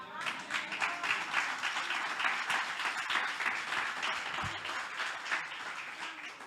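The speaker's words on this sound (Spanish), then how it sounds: "¿Cuántos pueden darle palmas al Señor?" Church congregation claps during a sermon, a continuous rippling wave of many hands at moderate volume with a voice faintly under it.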